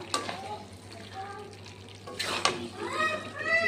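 A spoon stirs greens and pumpkin chachchari in a pan, scraping and clinking over a steady sizzle of frying, close and continuous with a voice faintly in the background.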